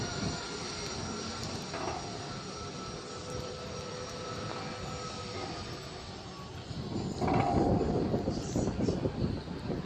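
A large airplane takes off at Springfield-Branson National Airport, heard from a distance as a steady, broad jet roar that swells louder toward the end, with faint talk now and then.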